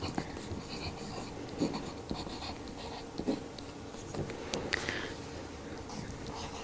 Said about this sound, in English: So I'm going to write Sarah laughed